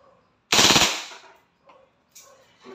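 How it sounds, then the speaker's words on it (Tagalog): WE Glock 35 airsoft gas blowback pistol fires a single fast full-auto burst, a loud, sharp rattle of rapid shots lasting under half a second, followed by faint handling clicks. "Okay, ito ay full automatic. Okay, rapid firing."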